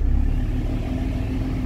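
A 2006 Cummins diesel pickup on a test drive gives a brief, moderately quiet low rumble of engine and road noise from inside the cab, with no talking.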